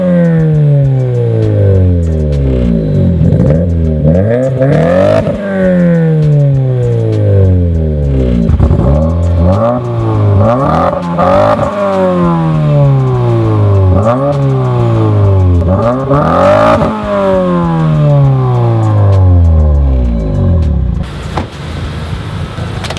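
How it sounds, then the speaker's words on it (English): A Subaru WRX/STI fitted with a new AWE Tuning exhaust drives past repeatedly, its engine revving up through the gears in rising sweeps, loud and close, then dropping away at the end. "we just got back from a drive around the block with the new exhaust"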